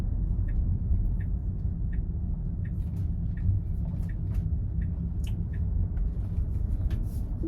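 Tesla Model 3/Y turning on full self-driving, a steady low road rumble from inside the cabin with faint repeated ticking, like a turn signal, above it; no talk.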